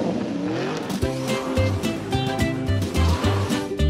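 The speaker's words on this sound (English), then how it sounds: "The blue car rushes to the rescue." A cartoon car speeds off, heard as a revving engine and whooshing rush set against bouncy, rhythmic background music in a kids' animated show about cars.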